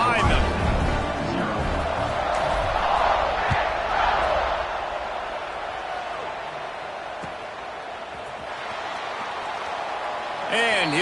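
A stadium crowd at a football game roars steadily just after a score and before the kickoff, a broad sustained wash of cheering with a commentator talking over it.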